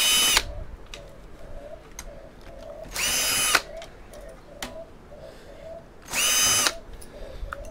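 Power drill working on scrap electronics held together with Torx and Phillips screws, two loud bursts of about half a second each, with a steady ticking hum and faint clicks in between.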